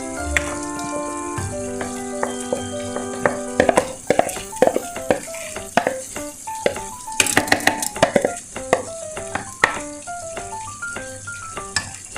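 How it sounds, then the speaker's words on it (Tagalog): A spoon stirs rice through a hot pan for chicken rice, giving repeated clinks and scrapes against the metal over a low frying sizzle, close and fairly loud, with no voices. "haluin natin ng ganito"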